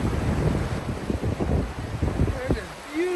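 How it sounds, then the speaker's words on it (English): Strong wind buffets the microphone beside a rushing river, a continuous roar of gusts and churning water that stays loud throughout. "It is an amazingly windy day, and this river has got quite the ruckus going."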